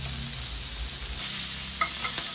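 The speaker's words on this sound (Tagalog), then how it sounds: "Isisutay muna ang atay. Sa medium fire." Pork liver sautés in a pan over medium fire, giving a steady close sizzle with a few soft stirring clicks near the end.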